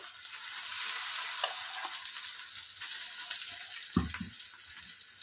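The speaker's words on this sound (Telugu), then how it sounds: "పోపు వేగిన తర్వాత మనం మిక్సీ పట్టుకున్నటువంటి ఈ దోసకాయ పచ్చడిని ఇందులోనికి వేసేసి ఒక 2 నిమిషాలు కొద్దిగా హీట్ అయిన వెంటనే స్టవ్ ఆఫ్ చేసేసుకోవాలండి" Blended cucumber chutney sizzling in a hot tempering in a pan, a soft steady hiss with light stirring scrapes and a brief louder knock near the end, no talking.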